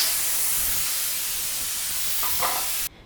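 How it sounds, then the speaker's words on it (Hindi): A pressure cooker cooking chicken feet releases a loud, steady hiss of steam that rushes out continuously, then cuts off abruptly just before the end. "मैं इसको प्रेशर कुकर में इसलिए बना रही हूँ ताकि टाइम की बचत हो।"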